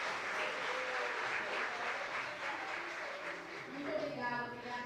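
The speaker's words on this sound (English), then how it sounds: "please applaud our video editor" Seminar audience applauding at a community land trust event, a steady wash of clapping at moderate level throughout, with a few voices rising toward the end.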